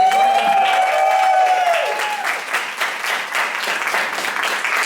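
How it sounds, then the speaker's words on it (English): Audience at a drag Dungeons and Dragons show in a bar, applauding in a burst that starts after a sustained tone and settles into mid-level clapping with a few cheers. "Clap for inspiration."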